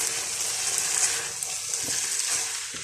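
A chicken and vegetable samosa filling cooks in a pan with a bright, continuous sizzle, plus a few soft stirring scrapes near the end, close up and without speech.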